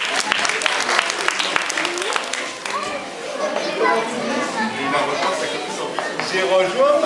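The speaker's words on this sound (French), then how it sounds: "Bravo, on peut applaudir." A small audience that includes children claps along with chatter and children's voices, the applause dense at first and then thinning into mixed talk.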